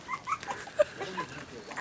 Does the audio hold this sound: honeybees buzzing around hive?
no